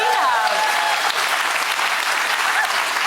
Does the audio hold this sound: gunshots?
no